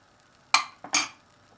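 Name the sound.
spoon spreading and smoothing filling in a baking dish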